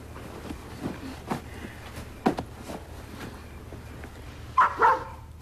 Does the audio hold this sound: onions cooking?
no